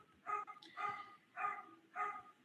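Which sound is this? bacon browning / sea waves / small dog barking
small dog barking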